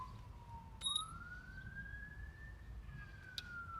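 A distant emergency vehicle siren wails, rising and falling slowly in pitch, steady and somewhat faint, over low background rumble with a couple of brief clicks.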